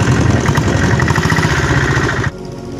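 A motorbike climbs a winding mountain road at Mount Abu with its engine loud and close, a rough, pulsing mid-pitched growl that cuts off sharply near the end.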